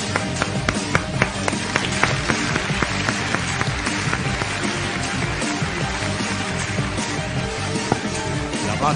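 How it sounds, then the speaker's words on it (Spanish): An audience at a televised magic show applauds a magician after a rabbit appears, producing steady dense clapping throughout with scattered sharper individual claps standing out near the front. "¡Aplausos!"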